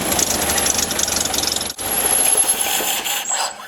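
Old Ford Model A engine running with a rapid, loud mechanical clatter, steady apart from a brief dropout midway, no talking.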